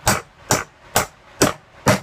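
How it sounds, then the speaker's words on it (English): Hammer blows driving a coupler down over a socket while making a sprue extender: five sharp, evenly spaced metallic strikes about half a second apart, close and loud, with no talk. "put another coupler over it, go down with your socket, hammer it down"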